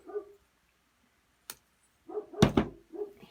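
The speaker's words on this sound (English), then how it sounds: "that's my daughter's dog barking because he wants out of the kennel" A dog shut in a kennel and wanting out barks and whines in short bursts: a faint yelp, a sharp knock-like bark, then a louder cluster of barks and whimpers close by.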